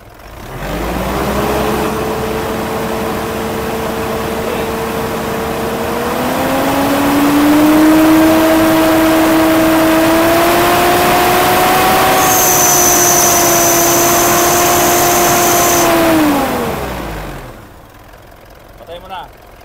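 A car engine idles, then revs smoothly up to about 2,000 RPM and holds there with a steady, rising hum. A high whine joins briefly before the engine drops back down and settles.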